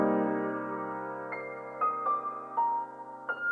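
Plucked synth chords in an R&B beat wash out under a dark, spacious reverb tail, with a few brighter plucked notes ringing out on top; steady, moderately soft, no voices.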